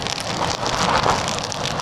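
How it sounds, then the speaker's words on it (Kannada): Heavy rain in the Western Ghats hills near Charmadi and Mudigere, a dense steady downpour hissing on surfaces with gusts of wind buffeting the microphone, loud and close throughout. "ಸೊ ಮಳೆ ಸಿಕ್ಕಾಪಟ್ಟೆ ಜೋರಾಯಿತು, ಏನೂ ಬಿಡುವ ಥರ ಕಾಣ್ತಾ ಇಲ್ಲ."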